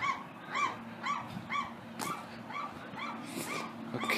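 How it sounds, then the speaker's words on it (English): A dog barks repeatedly in a steady series of short yips at a harbor marina, sounding somewhat distant and faint over a quiet hum. "That sounds like a dog."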